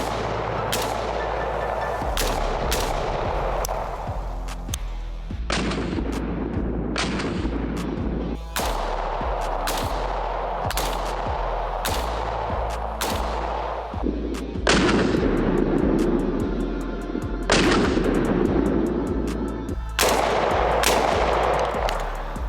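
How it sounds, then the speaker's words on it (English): Griffin Armament MK1 and MK2 firearms fire a series of loud, sharp gunshots outdoors, spaced irregularly over about twenty seconds, each with a booming echoing tail, and no voices. "we just got done shooting both the MK1 and MK2 from Griffin Armament"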